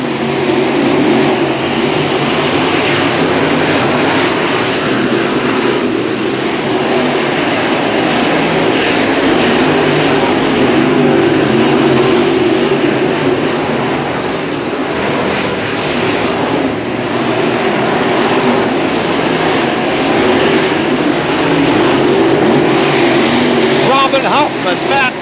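Race cars circling a lap at Macon Speedway, a steady loud roar of engines that holds throughout, with an announcer's voice over the noise.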